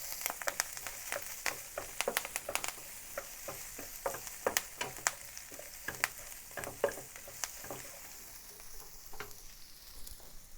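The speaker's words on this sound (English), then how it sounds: "the green chilies, the dry chilies, curry leaves, and then continue frying until everything becomes aromatic" Green and dried chilies with curry leaves fry in hot oil over low to medium heat with a close, crackling sizzle, sharp pops bursting irregularly over a soft hiss, busiest early then calming.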